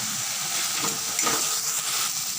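A masala mixture is sautéed (kosha) in a pan, producing a loud, continuous hissing sizzle with a faint rustle of stirring, close and without any talk.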